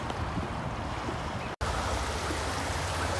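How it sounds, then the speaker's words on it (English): A small creek runs steadily into Lake Washington as a constant, full rush of water close by, broken only by one instant of silence halfway through. "here is a little creek, that's Lion Creek, draining out into Lake Washington"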